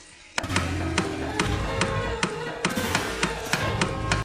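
Rolling pin pounding raw poultry in a kitchen, a steady series of about a dozen sharp, close thumps at a regular pace over a continuous background.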